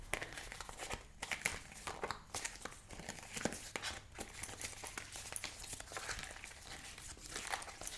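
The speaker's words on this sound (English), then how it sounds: "I'm going to shuffle." A deck of cards, likely tarot-style reading cards, shuffled by hand close up, giving soft irregular riffles and crinkly flicks at low volume with no talking.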